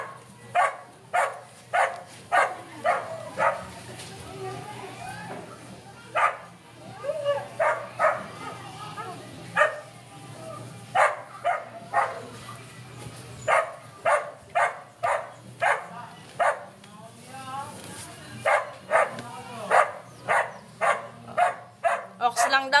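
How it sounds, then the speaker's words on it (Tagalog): A neighbour's dog barks repeatedly outside, sharp woofs coming in quick bursts with short pauses and a few yips, carrying clearly from nearby through a long stretch of steady barking. "Teka lang, sana patatahimik yung aso."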